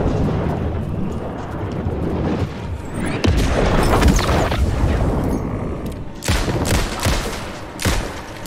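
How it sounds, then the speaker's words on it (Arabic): Heavy bomb explosions boom and rumble in Alan Wake 2, a dense roll of blasts building toward the middle, then several sharp separate detonations near the end, loud and close. "ايش من قنابل؟"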